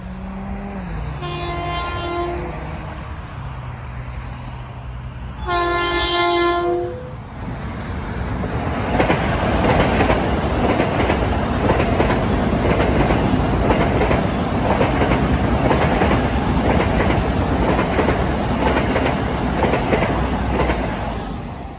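An LIRR train sounds two loud horn blasts, then passes at Pinelawn station with a rising, sustained rush of wheels clattering on the rails, close and loud with no voices.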